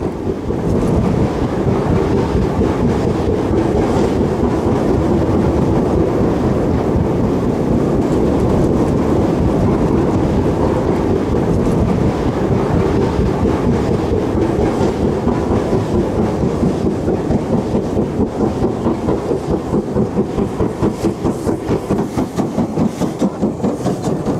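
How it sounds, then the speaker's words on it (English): Fairbairn tank locomotive banking an 8F steam locomotive as they restart away from T-Bay, tanks overflowing: a loud, continuous, close heavy rumble of working steam with rapid rhythmic exhaust beats and clanking throughout, no voices. "The Fairbairn tank assisting the 8F has overflowing tanks as it gets to grips with the restart leaving T-Bay"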